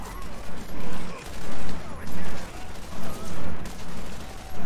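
Pistol shots in the video game Borderlands fire in bursts of several rapid cracks, loud and close, with game sound around them and some talk.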